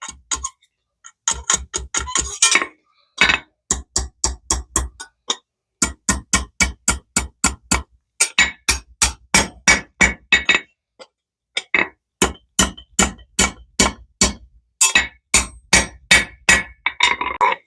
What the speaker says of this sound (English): So I'm going to do it with just a hammer.